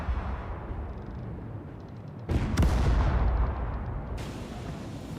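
Ship cannons fire in the naval battle game Caribbean Legend, a heavy broadside of booming shots erupting mid-clip over steady sea and wind rumble, loud and close, then fading to rolling ambience.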